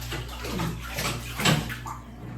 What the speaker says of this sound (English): So if you hear any water,